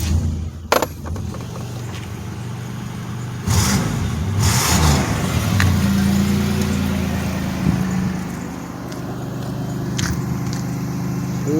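A rusty 1997 Pontiac Grand Prix GTP coupe engine idles, then revs up hard in a few loud, rising bursts, its rear exhaust manifold leaking at a downpipe held by a single nut. Nobody speaks.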